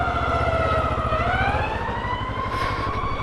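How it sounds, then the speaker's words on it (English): An ambulance siren wails steadily, its pitch sliding downward as it passes on a rainy cold motorcycle ride, heard over a constant low engine and road rumble. "Oh, there's the ambulance again."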